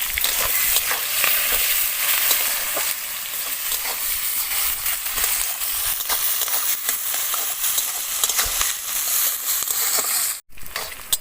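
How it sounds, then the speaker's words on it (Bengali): Chopped onion fries in oil with whole garam masala, bay leaf, dried chilli and cumin seeds, a dense close crackling sizzle with scraping stirs throughout, briefly cutting out near the end. "পেঁয়াজটা এখানে আমার ভাজা হয়ে গিয়েছে"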